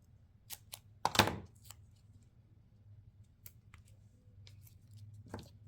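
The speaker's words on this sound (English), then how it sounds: "And then I'll cut some foam tape to put on there." Scissors cutting foam tape for a scrapbook layout, one crisp close snip among a few fainter clicks and rustles over a low hum, quiet and with no talk.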